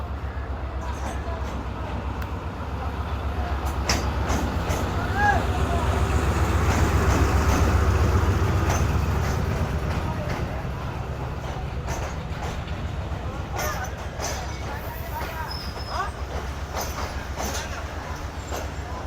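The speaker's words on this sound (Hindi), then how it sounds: "तो ये आ रही है 42 डाउन कराकरम एक्सप्रेस, लाहौर और कराची के दरमियान चलने वाली।" The 42 Down Karakoram Express, a passenger train running between Lahore and Karachi, rolls into a platform in winter fog with a steady heavy rumble and wheel clatter, swelling louder mid-way and fading slightly, while people talk over it.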